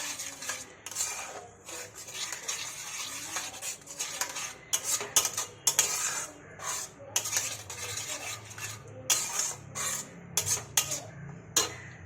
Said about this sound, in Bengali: দিয়ে ভালো করে আবার কষিয়ে নেব